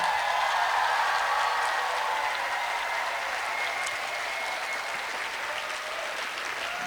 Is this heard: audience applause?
yes